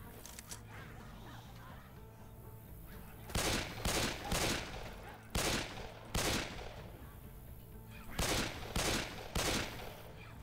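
Bursts of gunfire from the video game Left 4 Dead 2, several short rapid volleys of shots repeating in clusters over a quieter game background.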